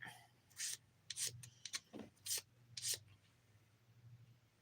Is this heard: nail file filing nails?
yes